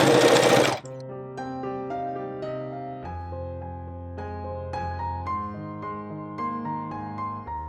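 A sewing machine fitted with a zipper foot stitches invisible piping. A short loud rustle opens, then the motor hums and whirs steadily at close range with a fast, even stitching rhythm.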